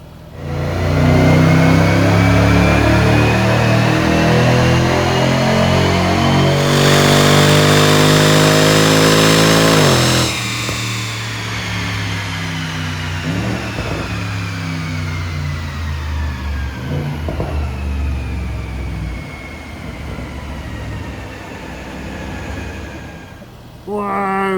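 A tuned Jaguar XFR engine revs hard on a dyno, climbing through a long loud sweep that peaks and then cuts off to a lower winding-down whine with a fainter rise at the end.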